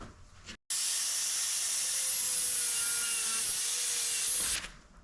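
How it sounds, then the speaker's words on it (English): A grinder cleans up a slit in an aluminum shifter from a Yamaha 1700 motorcycle. After a brief pause, a loud, steady, high hiss of grinding runs for about four seconds and then stops. "So I'll just be real quick with the grinder"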